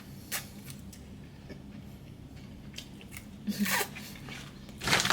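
Chewing and biting into a vegan burger, soft crunchy mouth sounds close up with a few sharper bites, no talking.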